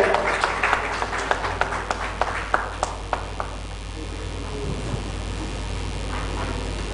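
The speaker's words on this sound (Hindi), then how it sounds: "जोरदार तालियों से स्वागत किया जाए." Scattered audience clapping at a smart city award ceremony in Bhopal, with separate claps ringing out quickly for a few seconds and then dying away into quiet room noise.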